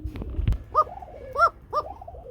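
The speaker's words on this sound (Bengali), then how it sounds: "ডিমের কবুতর কি সুন্দর ডাকে, দেখতে পাচ্ছেন?" Egg-laying pigeons cooing at a pigeon sale: three clear, rounded coos spaced about half a second apart, close and distinct, after a few soft thumps and rustles at the start.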